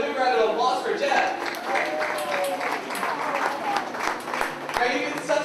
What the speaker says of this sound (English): Let's have a big round of applause for Jeff.